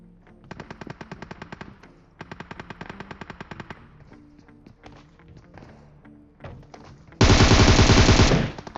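Automatic gunfire in the mobile battle-royale game PUBG Mobile, with two rapid, evenly paced bursts of close shots, scattered single hits, then a loud, dense blast of fire at the end.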